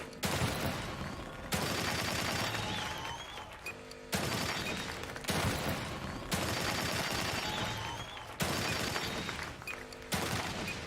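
Gunshots in The Evil Within 2 on Nightmare difficulty, a series of loud, close blasts every couple of seconds, each followed by a short decay. No talk is heard.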